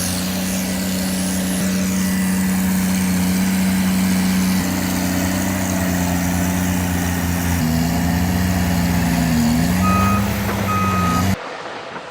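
An SEM 832F bulldozer works in a mine pit with a loud, continuous engine drone that shifts slightly in pitch. Short electronic beeps sound near the end before the engine noise drops away.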